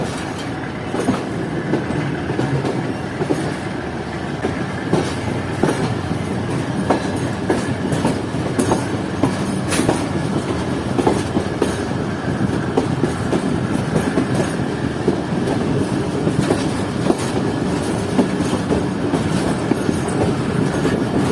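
Fareed Express, a private Pakistani train on the Lahore to Karachi route, picks up after the driver notches up: a continuous loud rumble with repeated wheel clicks and clatter over rail joints, steady throughout and free of talk.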